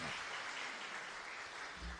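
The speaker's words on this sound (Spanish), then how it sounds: "Fuerte aplauso entonces para el Señor." Congregation applause during a Catholic Mass in a diocese celebrating Saint Anthony of Padua, a continuous wash of clapping heard at a distance and fairly faint, filling the church evenly without individual claps standing out.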